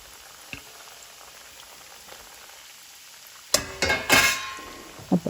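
Parippu vada (lentil fritters) frying in hot oil: a faint steady hiss at first, then a sudden loud burst of bubbling, crackling sizzle that swells and settles, with a few sharp pops near the end.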